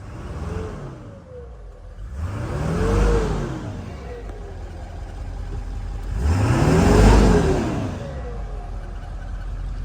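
A 2000 Ford F-350 with a 7.3 Power Stroke diesel runs after injector replacement, idling with a loud rumble and revving up twice in long rising-and-falling swells, heard close and alone.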